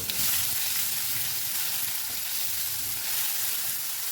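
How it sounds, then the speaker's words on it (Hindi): Freshly crushed garlic and ginger paste fries in about three tablespoons of oil, a steady, close hiss and sizzle that carries on evenly without any talk. "इसको हम सिर्फ और सिर्फ 20 से 25 सेकेंड ही फ्राई करेंगे।"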